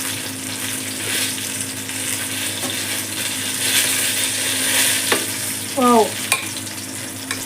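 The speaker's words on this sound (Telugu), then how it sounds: "ఓకే అండి, మంచిగా ఉడుకుతుంది" Stuffed brinjal (gutti vankaya) curry gravy simmers in a pan with a steady bubbling, sizzling hiss throughout, close by, with a few brief clinks near the end and a short exclamation from a voice.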